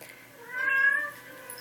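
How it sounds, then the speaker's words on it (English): A house cat meows once, a soft, drawn-out call heard up close and alone in an otherwise quiet room. "Alright, there's the kitty."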